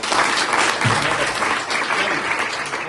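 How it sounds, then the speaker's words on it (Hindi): Students in a school biology class clap loudly together in sustained, dense applause for about three seconds, close and steady throughout. "इसके लिए जोरदार ताली बजाओ थोड़ा"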